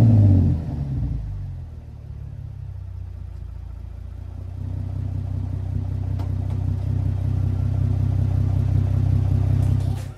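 Lexus IS engine revving up from idle with a deep, steady rumble that builds and holds loud and close, no talking.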